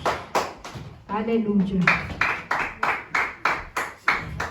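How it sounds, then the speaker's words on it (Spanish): A church congregation claps in a steady rhythmic beat, loud and close, with a short spoken exclamation breaking in near the beginning before the clapping resumes. "Démosle un fuerte aplauso al Señor, hermanos"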